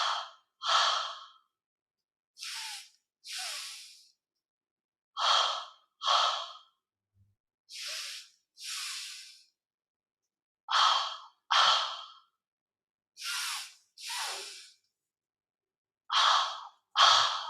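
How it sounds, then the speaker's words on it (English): Light double breaths in a yoga lesson, drawn from belly to chest: about five pairs of quick, airy sniffs and puffs, close and clear, separated by short silences, with no talk. "So when you're ready, 5 double breaths. Let's breathe together."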